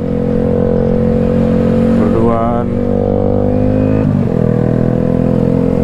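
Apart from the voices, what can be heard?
motorcycle engine running after rain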